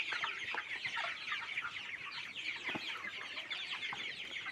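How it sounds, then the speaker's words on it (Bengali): A flock of 32-day-old colour broiler chicks on a farm clucks and peeps continuously, with overlapping calls at a steady moderate level and no talking. "এই আমার কালার বাট মুরগির বাচ্চা আজকে 32 দিন রানিং।"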